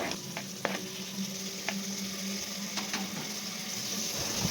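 Two finely chopped tomatoes sizzle in hot oil with ginger garlic paste for a chicken thanni kulambu: a steady, close crackling hiss with a few faint clicks from stirring, and no voices.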